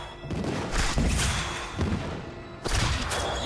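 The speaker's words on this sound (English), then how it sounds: "Indigo Rune fires enemy-seeking missiles instead of grenades." Cluster arrow firing enemy-seeking missiles with the Indigo Rune in Diablo 3, a steady barrage of thudding blasts and crashes, loud and dense, with a sharp new impact near the end.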